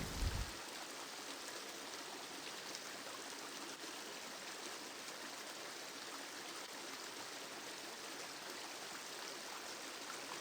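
A shallow fell stream flows steadily at a wild campsite, a continuous close rushing and trickling of water that holds even and unbroken throughout with no voices.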